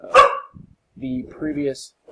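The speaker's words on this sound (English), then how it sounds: "excuse my dogs" Dogs bark in a room, a sharp bark at the start and another near the end, with someone speaking close in between.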